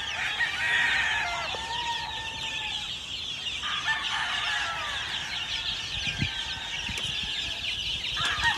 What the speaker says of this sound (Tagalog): More than 400 chickens.